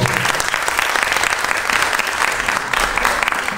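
An audience at a creative evening honoring a Georgian artist breaks into loud, sustained applause that fills the room evenly for several seconds, with no speech over it.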